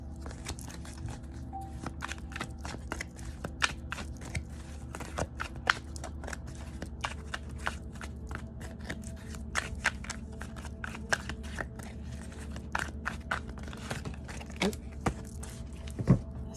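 Cards are shuffled and riffled repeatedly up close, a steady run of crisp snaps and flicks over a low background hum.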